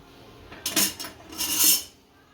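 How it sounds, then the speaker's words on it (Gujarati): An iron tava is set down on a gas stove in a home kitchen while making rava uttapam, giving two short metallic clanks and scrapes a moment apart, close and fairly loud, with no talking. "તવો મૂકી દીધો છે, ગેસ ચાલુ કરશું।"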